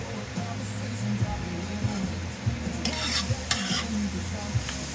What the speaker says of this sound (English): about every 5 minutes you want to give it a little stir